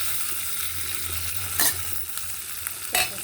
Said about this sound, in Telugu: ఇప్పుడు పచ్చిమిరపకాయలు వేసాను. పచ్చిమిరపకాయలు వేగిన తర్వాత